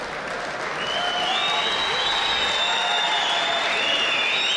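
Spectators at a judo Grand Prix in Tashkent clap steadily in a large arena, a dense continuous wash of applause with a high whistle-like tone gliding over it.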